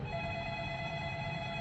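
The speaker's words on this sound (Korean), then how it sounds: "사모님으로부터 전화가 걸려오는 것입니다" A telephone rings with a steady electronic trill, a sustained tone held throughout without pauses or voices.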